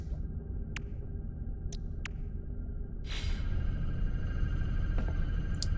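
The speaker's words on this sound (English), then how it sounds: "Wait for this storm to pass" A storm in the video game No Man's Sky: a steady low rumbling hum that swells louder partway through, with a few faint high pings and a whooshing gust over the drone.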